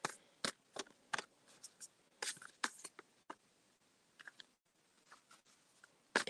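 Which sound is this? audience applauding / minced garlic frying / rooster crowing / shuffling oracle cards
shuffling oracle cards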